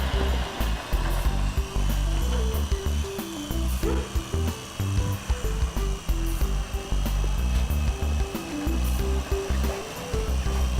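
Continuous whirring, buzzing motor drone from a remote-control helicopter, fluctuating in pitch with stuttering pulses, loud and close, no voices.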